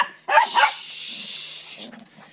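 A small dog barks a few quick, sharp times up close indoors, followed by softer whimpering noises, with no talking over it.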